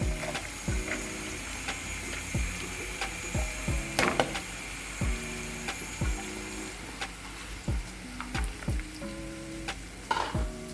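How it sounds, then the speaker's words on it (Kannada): Onions fry in a pan with a soft sizzle beneath repeated wooden clicks and knocks from stirring, all close by. "ಉಳ್ಳಾಗಡ್ಡಿ ಹಾಕೊಂಡು ಫ್ರೈ ಮಾಡ್ಕೊರಿ."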